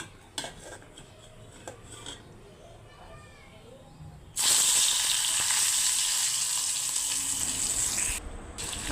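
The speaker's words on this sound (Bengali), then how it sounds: "মাছগুলো বেজে নেব ভর্তা বানানোর জন্য" Fish being fried in a pan for bharta: a few soft clinks and faint kitchen noise, then a loud, steady, close sizzle bursts in halfway through and keeps crackling to the end.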